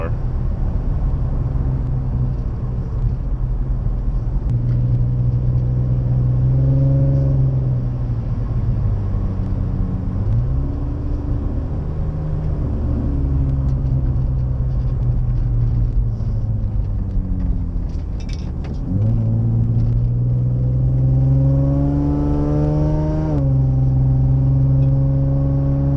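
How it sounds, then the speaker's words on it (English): A Nissan 350Z's VQ35 engine with an exhaust leak runs near and loud, its low drone rising and falling through several revs, with a sharp climb in pitch toward the end, and a voice speaking over it at times. "Exhaust leaks making it sound horrible"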